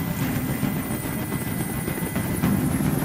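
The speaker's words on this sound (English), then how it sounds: "Tell that helicopter to get out of here." A helicopter hovering near a rooftop hostage scene in the video game Detroit: Become Human, a steady low rotor drone with a continuous thrumming rumble and no talk.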